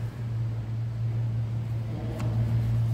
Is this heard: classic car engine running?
yes